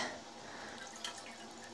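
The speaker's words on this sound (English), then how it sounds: "Some of that water drain off." Water draining and dripping off freshly dyed fiber as it sits in a steamer basket, a soft continuous trickle with faint drips, fairly quiet and alone.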